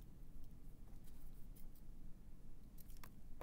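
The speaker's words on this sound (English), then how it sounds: "I'm going to cut my thread." Scissors snipping sewing thread while making a teddy bear foot pad, a few faint, close, crisp cuts against quiet background.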